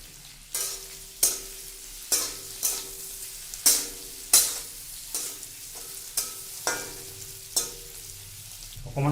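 Canned sardines frying in a pan with salt, a soft continuous sizzle broken by repeated stirring scrapes at a roughly regular rhythm, nearby and moderately quiet.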